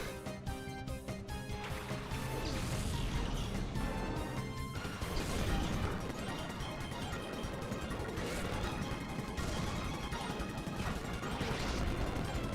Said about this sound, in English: We're gonna have Explosion as well.